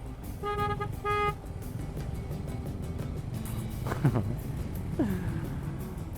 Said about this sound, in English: The unnecessary honking